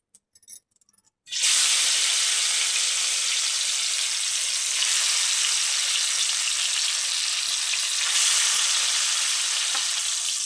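After a few light clicks, a loud, steady frying hiss starts abruptly and holds for several seconds as salt, chili and garlic paste cook in a pan over a medium stove flame.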